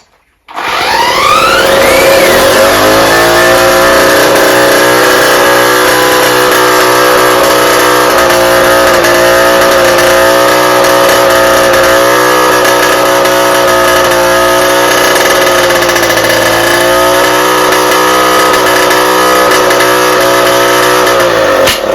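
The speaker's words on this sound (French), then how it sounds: "là c'est moteur plein régime" An engine roars at sustained high revs, loud and steady, with a strong harmonic drone that holds for about twenty seconds after a quick rise.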